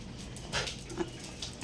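Small dogs whine faintly in short, brief whimpers against a low room background, with a couple of soft yips.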